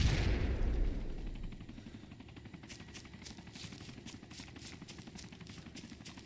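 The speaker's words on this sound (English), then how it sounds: "Gonna throw a nade." Grenade explosion in a first-person shooter game: a heavy boom at the start fades over about a second, followed by steady rapid gunfire clicks and distant shooting through the rest.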